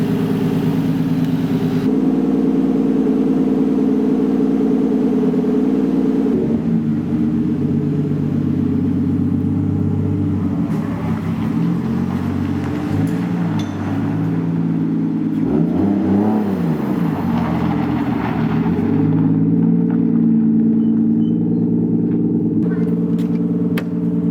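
Toyota JZX100 Mark II with a turbocharged 1JZ engine running steadily on a test drive, a constant mid-pitched drone with several rising and falling rev swells, heard from inside the cabin with people talking over it.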